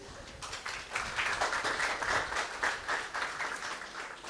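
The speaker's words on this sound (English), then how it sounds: "Well, if I didn't give another round of applause," A round of applause at a college graduation ceremony, crowd clapping that swells after a moment and holds steady, fairly distant and moderate in level.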